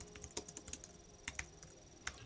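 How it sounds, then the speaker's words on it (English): Typing on a computer keyboard gives a quick, uneven patter of light key clicks, close and fairly soft, with a few sharper taps standing out and no voices. "I don't know what on earth I'm typing here"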